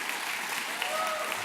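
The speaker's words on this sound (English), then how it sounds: "you ought to give them a round of applause" A brief, steady wash of audience applause at a climate leadership summit keynote, dense and even throughout.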